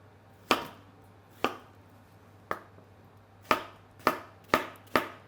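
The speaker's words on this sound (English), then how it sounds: "I'm using kind of roughly half of the cucumber, and I'm going to cut it into" A knife dices cucumber on a cutting board with seven crisp, distinct chops at an uneven pace, close and clear against a quiet background.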